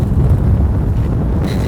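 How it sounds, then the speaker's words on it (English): Strong wind buffets a microphone outdoors in a New York street area, a loud, constant low roar and rumble with no pauses. "It's super windy"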